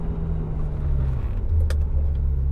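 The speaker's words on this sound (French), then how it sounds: "elle répond tout de suite à l'action de la pédale d'accélérateur" A Ferrari 355 Berlinetta engine revs smoothly and loudly up close, a deep steady rumble that rises a little in pitch as the throttle opens, with no jolts or hesitation.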